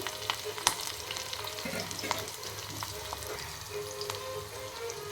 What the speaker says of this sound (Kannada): ಫ್ರೈ ಆಗಲಿ ಉಳ್ಳಾಗಡ್ಡಿ